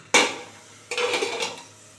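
A metal pot lid is lifted off a simmering pot of lau-chingri, made with bottle gourd and prawns. A sharp clank is followed by a brief ringing scrape as the lid comes away, close and loud.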